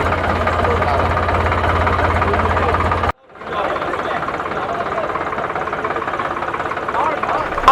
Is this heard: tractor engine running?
yes